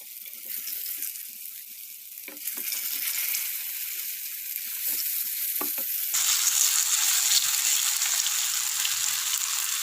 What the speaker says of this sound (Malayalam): ഫ്രൈ ചെയ്തെടുക്കാം നമുക്ക്.